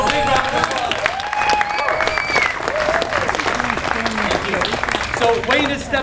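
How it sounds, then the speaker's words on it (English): An audience at a political rally in Sussex, New Brunswick gives a sustained round of applause, loud and dense clapping throughout with some cheering and voices mixed in. "Please give a big round of applause."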